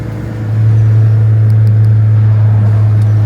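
A car is driven on the road with a steady low engine drone and road rumble that swells up in the first half second, then holds loud and constant inside the cabin, with no talking.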